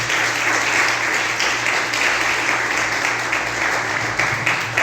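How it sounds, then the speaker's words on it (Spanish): Congregation gathered in a park for worship claps together as an offering to Christ, a loud, continuous wash of many hands clapping, with a faint low hum of amplification beneath. "dale una ofrenda de palmas a Cristo"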